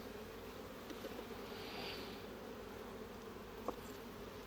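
Honey bees buzz around an open beehive in a steady, dense drone that stays constant throughout. One louder insect briefly passes close by.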